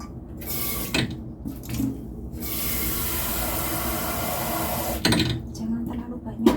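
Tap water running steadily into a pot for instant noodles in a home kitchen, a continuous hiss with clanks and knocks of the pot at the start and end.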